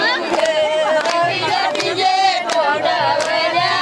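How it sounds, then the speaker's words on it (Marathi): A large crowd of Warkari pilgrims celebrating Ashadhi Ekadashi, loud, dense massed voices and cheering with rhythmic chanting and percussive beats running throughout. "आज तर आषाढी एकादशी एकदम जल्लोष आहे वारकऱ्यांमध्ये"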